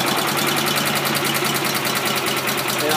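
A new Little Wonder Optimax 9 hp blower engine idles loud and close, a steady, fast mechanical chug with a buzzing, rattling edge and no pauses.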